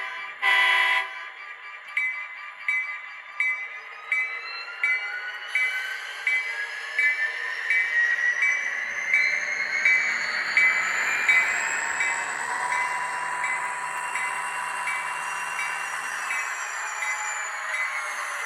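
A ScaleTrains Norfolk Southern ex-Conrail SD40-2 model locomotive with DCC sound is driven on a layout. A run of short rhythmic chuffs or bell-like pulses leads into a steady engine drone, with rising whistling tones on top.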